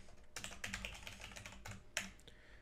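An email address being typed on a computer keyboard: a quiet, close run of quick, irregular key clicks, with a sharper tap near the end, with no voices.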